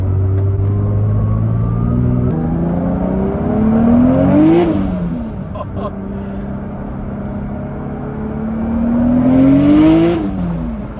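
A big-turbo Toyota Supra engine revs hard twice, pitch climbing steeply toward redline each time before dropping off, loud and close with turbo whir over a steady idle drone.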